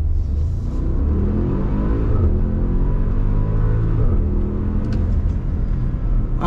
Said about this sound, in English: I think I hear the exhaust valves open up